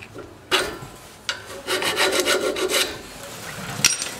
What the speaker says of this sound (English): the file doesn't really dig into rust, but it will on the sound metal